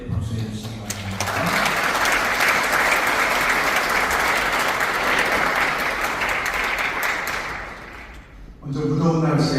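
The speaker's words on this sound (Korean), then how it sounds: "또 뜨겁게 박수해 주시기 바랍니다." Loud, sustained applause from a church congregation at a Methodist conference policy presentation in Seoul, greeting a bishop candidate; steady clapping fills most of the stretch, with brief spoken voices before and after it.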